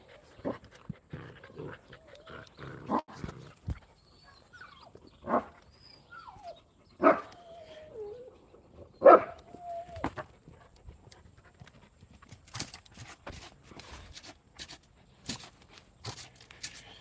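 A big dog on a walk gives scattered barks and short whimpering whines across a quiet outdoor stretch, with panting and faint footsteps between the louder yelps.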